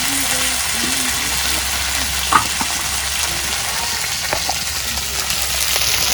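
Taro frying in hot oil hisses steadily at close range while it is stirred for a Bengali silver carp curry, with salt, turmeric and chili powder added. Occasional spoon scrapes break through the sizzle.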